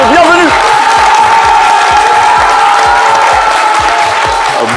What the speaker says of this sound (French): il vous laisse des applaudissements de bienvenue